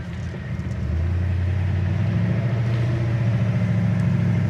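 A 1960 Ford Starliner with a tuned dual four-barrel V8 runs steadily, its low engine drone swelling after the first second and holding loud and close. Braking is not clearly distinct from the engine sound.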